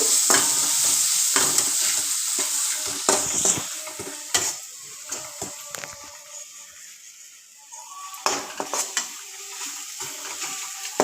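Cauliflower masala sautés in a pan, the loud sizzle of frying spices mixed with frequent scraping and knocking of a spatula as it is stirred, easing to quieter frying before the stirring picks up again.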